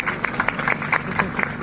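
An audience claps at a speech event, a burst of steady, fairly close applause with many overlapping hand claps rattling on without pause.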